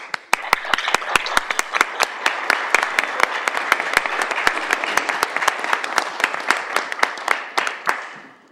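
A small group applauds at a city council meeting, giving steady clapping for about eight seconds with sharp, distinct hand claps standing out near the front before it tapers off at the end.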